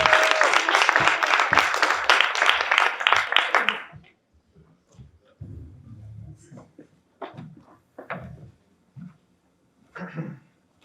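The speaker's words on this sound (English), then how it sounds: "Give them a round of applause to get this started." An audience applauds a student group in a loud, dense burst of clapping that stops abruptly after about four seconds, leaving quiet room noise with scattered faint thumps and rustles.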